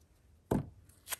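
Small Teflon-coated scissors cutting washi tape, one crisp snip followed by a fainter second click, close and quiet.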